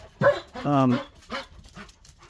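A dog gives a couple of short, close vocalizations, a yelp then a longer whiny bark, with a voice mixed in.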